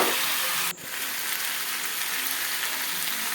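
Ginger and cumin paste fries in hot oil, giving a loud steady hiss with a brief dip near the start, close and continuous, with no talking.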